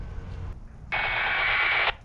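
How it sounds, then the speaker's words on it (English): APRS packet received over ham radio on a Baofeng UV-5R handheld: a single loud, steady one-second burst of buzzing data tones that cuts in sharply over faint static hiss and stops abruptly. "That's an APRS packet."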